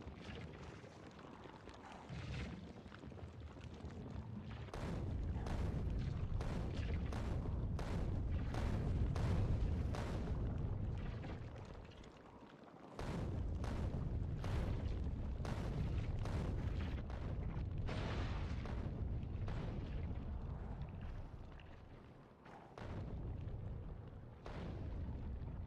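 Bombs explode in the Space Engineers game as a long run of heavy, rumbling booms in close succession, with two short lulls between the bursts and no talking.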